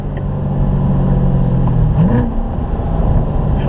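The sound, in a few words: Corvette slowing down and turning in on a race track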